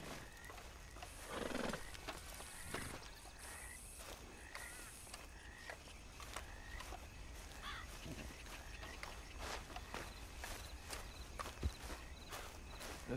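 A horse in Red Dead Online walks with soft, steady hoof clip-clops set against quiet outdoor ambience, and it gives an occasional distant whinny.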